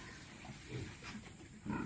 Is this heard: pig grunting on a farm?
yes